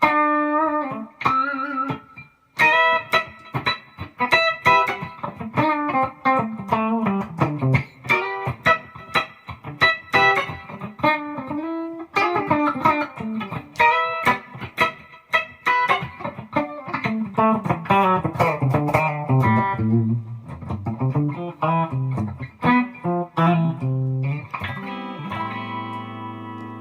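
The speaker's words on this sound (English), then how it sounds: "And here is the bridge pickup. That's quite bright." Bright, twangy electric guitar notes and short phrases from the bridge pickup of an Ibanez AX120 SG-style guitar, clean and crisp with a sharp treble edge, played alone with brief pauses between runs.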